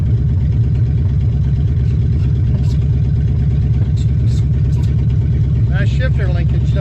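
A 1970 Ford Falcon engine idles roughly and steadily in a smoky garage with the parking brake set as it is shifted into reverse, a loud, continuous low drone with brief higher-pitched sounds near the end.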